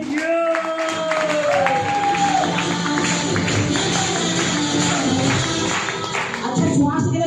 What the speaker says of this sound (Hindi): बहुत जबरदस्त ताली होनी चाहिए